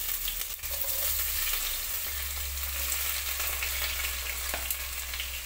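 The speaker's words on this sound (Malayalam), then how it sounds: "നമുക്ക് ഇനി അതിലേക്ക് ഈ ഉള്ളിയും തക്കാളിയും കൂടി ഇട്ട് കൊടുക്കാം." Onions and tomatoes fry in a hot pan with a continuous soft sizzle and hiss, occasional stirring clicks, and a low steady hum beneath.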